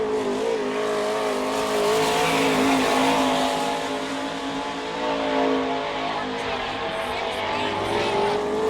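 A sprint car, the Triple Deuce, rolls out onto a dirt speedway, its engine roaring and revving with a shifting pitch, steady and fairly close, under an announcer's voice.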